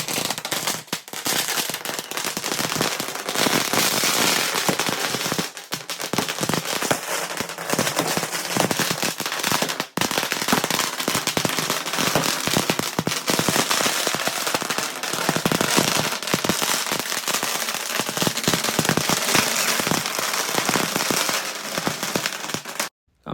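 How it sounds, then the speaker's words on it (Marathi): Firecrackers set off after a maha aarti celebrating the Ayodhya Ram temple consecration, with a dense, continuous crackle of rapid bursts that stays loud and sustained throughout. "प्रभू श्रीरामांची महाआरती झाल्यानंतर आम्ही फटाके वाजवले आणि खूप जल्लोष केला"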